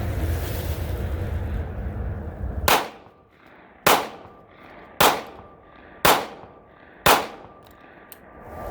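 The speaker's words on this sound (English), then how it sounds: "once again, shot all 5 rounds" Five sharp gunshots from a BRG9 Elite pistol ring out outdoors at roughly one-second intervals, each a loud crack with a short decay, after a stretch of wind or surf-like rushing noise.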